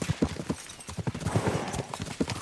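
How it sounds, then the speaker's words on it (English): Horses gallop in Kingdom Come Deliverance 2, their hooves pounding in a quick, continuous rhythm of close, clear thuds without speech. "We should spur the horses on."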